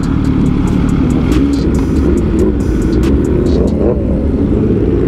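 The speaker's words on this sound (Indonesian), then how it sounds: "Kayaknya belasan motor nih" Around a dozen sport motorcycles, including a ZX10R, ZX636, R6 and MV Agusta, ride past on a Sunday morning group ride, a loud, continuous roar of engines with rising revs that swell and fade close by.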